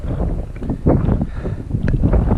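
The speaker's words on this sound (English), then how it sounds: "Wind's getting up." Wind gusting outdoors on a hilltop stop during a winter road bike ride, a steady loud low roar buffeting the microphone with rumbling surges throughout, no talking.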